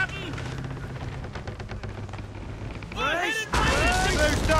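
Ship cannons in Assassin's Creed Rogue fire amid a rough squall with shouted crew orders, heavy booming blasts and crackling debris swelling at the end over constant wind and sea rumble.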